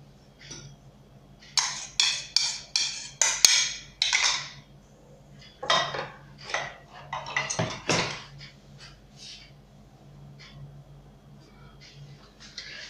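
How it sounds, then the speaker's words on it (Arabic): Brioche ingredients with eggs and yeast are mixed by hand in a bowl. The close, sharp clinks of utensil on bowl come in quick rhythmic bursts separated by short pauses. "غادي نخلط هاد المكونات اللي عندي كاملين"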